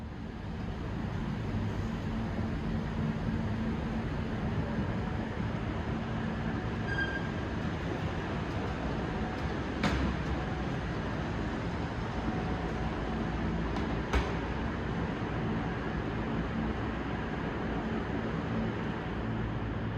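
Continuous rumbling roar of a New York City 7 subway train running through the tunnel under the East River toward Queens, with steady wheel clatter and a couple of faint squeals, no voices.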